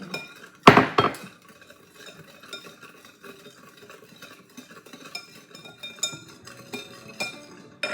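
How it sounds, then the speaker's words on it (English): A whisk mixes an ice cream base in a bowl, rapid scraping and clinking against the sides after a loud knock at the start, continuing steadily and close by with no talking. "I'm gonna use a whisk."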